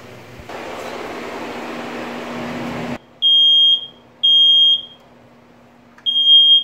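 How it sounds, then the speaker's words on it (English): A loud electronic smoke alarm sounds in three long piercing beeps with short gaps during a home fire drill, following a few seconds of broadband rushing noise. "So I'm going to go push the alarm and wake them up."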